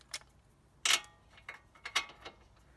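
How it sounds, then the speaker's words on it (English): A torque wrench clicks and ratchets as it tightens a loose, spinning tie rod ball joint stud nut to 55 foot-pounds, giving a few sharp close mechanical clicks at irregular spacing with quiet gaps between. "Next we're going to put our torque wrench on"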